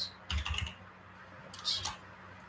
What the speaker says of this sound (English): I don't know why I'm typing so crappily today.